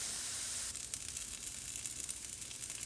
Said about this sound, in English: what you're going to be doing is sautéing them for about 4 to 5 minutes until they're soft